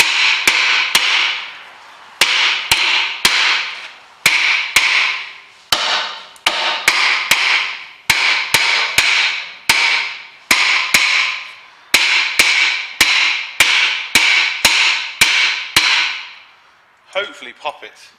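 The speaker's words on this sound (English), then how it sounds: "with the pressure you've got on it and the hammer hitting it at the same time" Repeated hammer blows on a car's rear wheel bearing, sharp metallic strikes landing in quick bursts of three to five with short pauses between, loud and close throughout.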